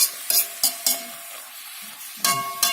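Eggs and vegetables frying in oil in a pan, with sharp scraping strokes of a stirring utensil in bursts and a softer sizzle carrying on between them, close up.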